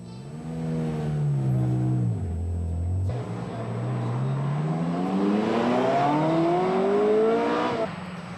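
A 1994 Ferrari F355's 3.5-litre, 380-horsepower V8 revs hard, its pitch dropping and then climbing steadily through the gears, loud and close, before cutting off near the end.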